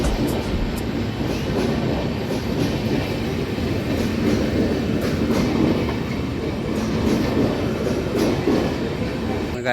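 At night at Bhadrak railway station, a train gives a continuous loud rumble with faint clickety-clack of wheels on rails, steady throughout and close by.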